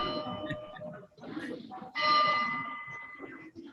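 Bell chimes heard over a Zoom meeting, with one strong, sustained ringing tone swelling up midway and fading out, mixed with murmured voices in the background.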